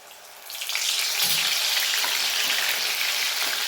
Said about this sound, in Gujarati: તેની અંદર આપણે થોડા દાણા નાખીને એને ક્રિસ્પી થાય ત્યાં સુધી તળી લેવાના